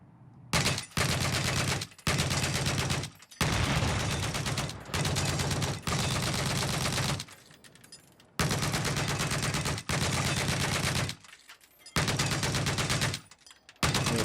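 Loud bursts of automatic weapon fire in Battlefield 4 on PlayStation 4, about ten sustained volleys separated by short pauses, with no voices.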